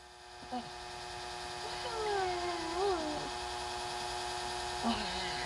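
A cat with a painful wound meows in drawn-out, rising and falling wails over a steady background hum, fairly near, with people talking quietly around it.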